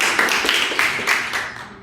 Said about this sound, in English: Claps for him, please.